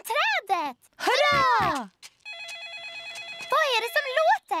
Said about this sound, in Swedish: Pappa Gris mobiltelefon ringer.